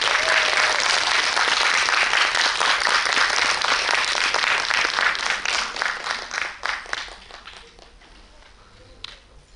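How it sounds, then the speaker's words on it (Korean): A cinema audience at a film screening's guest talk in a Seoul theater claps loudly to welcome directors and an actor, a full burst of applause that thins into scattered claps and fades near the end. "큰 박수로 맞아주세요."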